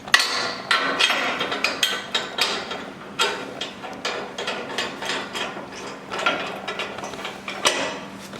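A Z Buck loader is being bolted onto a Toro zero turn mower, with rapid ratcheting clicks and sharp metallic knocks repeating in quick irregular bursts, close and fairly loud.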